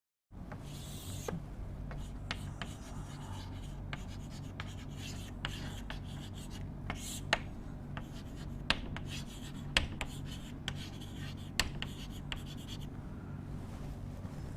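Hand writing during a lecture on metal-semiconductor contacts, with a pen or chalk scratching and tapping steadily for several seconds. Strokes are close and dry, broken by sharper taps over a quiet room hum.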